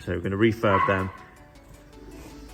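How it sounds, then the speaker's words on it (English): A dog barks twice in quick succession, close by, while someone talks over and after it in a garage restoring a Porsche Cayman. "That's the dog."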